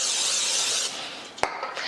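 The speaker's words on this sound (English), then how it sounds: "I'm gonna spray it with some cooking spray" Cooking spray hisses from an aerosol can into a springform pan, one steady close spray lasting nearly a second, followed by a short clack and softer handling noises.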